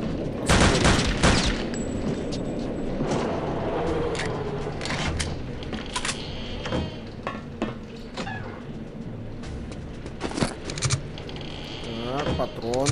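Gunfire in Return to Castle Wolfenstein, a loud burst of rapid shots at the start followed by scattered single shots and clatter, with someone talking throughout.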